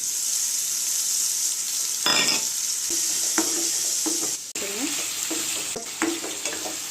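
Onions and a masala paste for pepper chicken are stirred in a hot pan, a dense, close sizzle broken by repeated scraping strokes and clinks of the spoon against the metal.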